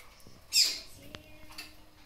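A female papa-capim seedeater in a cage gives a short, bright call once, close and fairly clear over quiet background, with a few faint ticks afterward.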